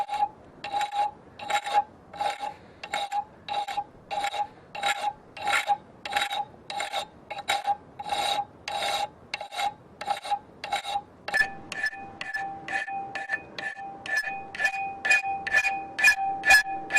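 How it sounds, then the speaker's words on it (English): A hand file rasps in steady back-and-forth strokes along a knife blade being made from an old file, about twenty regular strokes, close and fairly loud, with the pitch of the ring shifting partway through and no talk. "we just need to clean it up a bit with the file"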